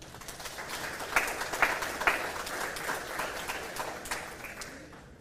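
Applause from an audience at a county 4-H fashion revue for sewing and consumer clothing, a steady wash of clapping with a few sharper claps standing out, moderately distant and alone.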